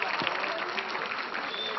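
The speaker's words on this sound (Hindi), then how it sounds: "जोरदार तालियां" Sustained applause from a large audience at a public event in Indore, loud and dense throughout, with crowd voices mixed into the clapping.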